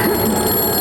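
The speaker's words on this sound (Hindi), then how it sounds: "कौन लाया फोन?" A telephone rings loudly and alone for a brief moment, a bright continuous bell tone filling the short span.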